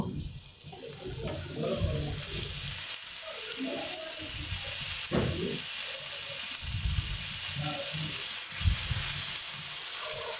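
Frying and stirring in a pan until browning, steady sizzle with intermittent scraping stir strokes, close and moderately loud, no talk.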